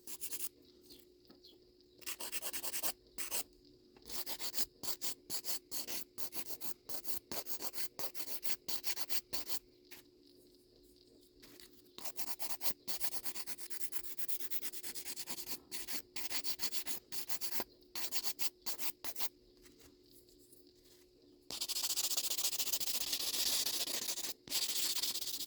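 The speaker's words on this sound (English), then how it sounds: "I am very lightly filing because you don't want to get down to what we did underneath" A nail file lightly files gel polish over a stone nail design in quick, close, rhythmic scratchy strokes. The short bursts come in repeated runs with brief pauses, then turn into a longer steady rub at the end.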